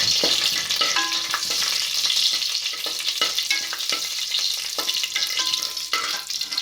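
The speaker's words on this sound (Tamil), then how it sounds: "பிரியாணி இலை, மராட்டி முக்கு, அன்னாசிப்பூ, கல்பாசி போட்டு நல்லா பொரியணும்." Bay leaf, star anise, stone flower and other whole spices fry in hot oil for a tomato rice dish, giving a continuous close sizzle with occasional clinks and scrapes from stirring.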